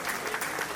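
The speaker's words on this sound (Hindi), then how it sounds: "एक जोरदार तालियों से हम उनका स्वागत और अभिनंदन करेंगे।" Brief burst of dense clapping from a crowd welcoming a speaker at a Kshatriya community conference in Kanpur, fairly faint and even.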